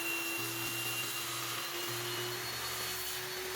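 A table saw cutting wood on a sled set at 45 degrees for a box joint on a lampshade, a steady loud whine with a low grinding tone as the blade feeds slowly, no talking.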